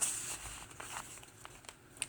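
Journaling paper pages from a vintage farmer's wife journal kit are flipped open, giving soft crinkling rustles and a few crisp paper snaps, close and fairly quiet.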